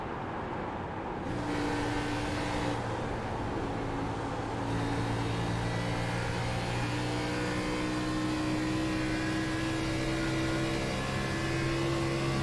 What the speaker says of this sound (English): We continue to ride on board and listen to Joseph Murata clutch the car.